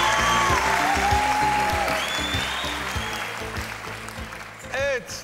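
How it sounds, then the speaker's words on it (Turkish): Studio audience applauding loudly on a Turkish televised talent show stage, steady dense clapping that slowly fades over a few seconds with background music underneath and a brief cheer near the end. "Alkışlarla uğurluyoruz kulise."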